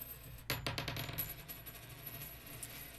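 Coins tossed for I Ching divination land as a quick cluster of bright metallic clinks and rattles, then settle into near silence. No one speaks.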